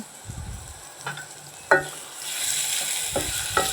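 Lotia dried fish stirred with garlic, cumin and onion in a pan, a soft sizzle under occasional spatula scrapes and knocks, close by, the frying hiss growing stronger midway.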